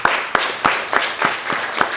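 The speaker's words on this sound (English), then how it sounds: "So please give him a lusty round of applause." An audience applauds at a Blind Welfare Association gathering in San Fernando, with a sparse, slow clapping of about six distinct claps spaced evenly and fairly close.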